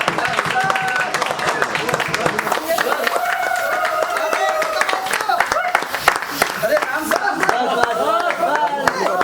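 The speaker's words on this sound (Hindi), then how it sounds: "ताली दो, ताली गिराओ" An audience claps and applauds a winner at an indoor mobile repair training session, with scattered, uneven handclaps over several seconds, heard under people talking and calling out.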